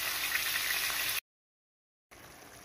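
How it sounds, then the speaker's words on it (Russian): Meat fries in a pan with a soft, steady hiss and crackle, broken by a second of complete silence before the sizzle resumes, quiet and without any talking. "здесь жарится мяско"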